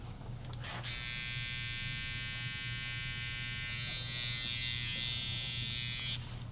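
An electric hair trimmer runs steadily for about five seconds at a barber's chair, a close, bright, even buzz that starts abruptly and cuts off cleanly, with no voices over it.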